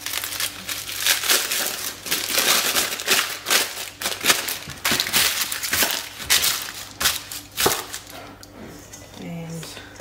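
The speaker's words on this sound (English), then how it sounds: "I'll just grab some baking paper and score it up." Baking paper is crinkled and creased by hand in a kitchen, giving a dense run of close, crackling rustles and sharp crunches that thin out and fade toward the end.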